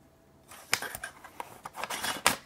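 Metal manicure scissors are handled and slipped into a kraft sterilization pouch, giving a series of sharp clicks and papery rustles, close and quiet, with several distinct taps near the end.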